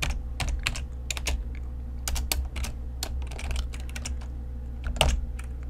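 Rapid, uneven clicks of typing on a computer keyboard while writing Excel VBA code, close and fairly loud, in short bursts with brief pauses and a steady low hum underneath.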